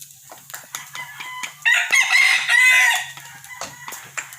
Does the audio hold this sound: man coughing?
no